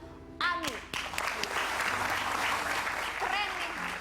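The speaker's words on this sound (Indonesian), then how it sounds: "Ya, tepuk tangan buat Ani." A studio audience claps on an Indonesian TV talk show, a sudden burst of dense applause that holds steady. Voices and whooping cheers rise over it.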